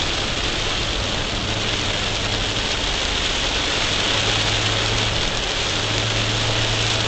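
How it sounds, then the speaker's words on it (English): Steady rain drums on a Volkswagen ID.4 Pro S AWD, a 2023 model, while it is driven, mixed with road and tire noise in a loud, continuous wash that never lets up. "Driving this thing in the rain"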